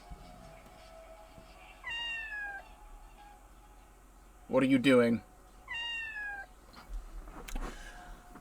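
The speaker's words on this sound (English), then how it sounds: "I am meowing at the top of my lungs" Loud cat meows from the video game OFF (2025 remaster), three drawn-out calls spaced across the clip, with a short spoken question and a burst of noise between them.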